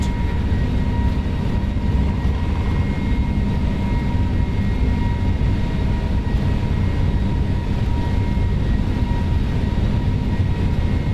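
Steady, loud roar of Airbus A321neo jet engines at takeoff thrust, sustained and unbroken under a constant low rumble with faint tonal whine, heard from inside the aircraft during the takeoff roll out of Tenerife.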